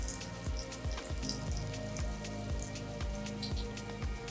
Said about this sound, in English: As you can see, the oil is ready, it starts to fry right away.